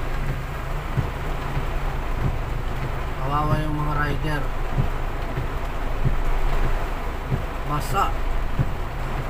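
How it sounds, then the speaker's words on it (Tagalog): Heavy, steady rain pours during Typhoon Enteng, a constant loud wash of noise with occasional knocks, while someone speaks briefly over it. "Walang tigil pa rin ang ulan."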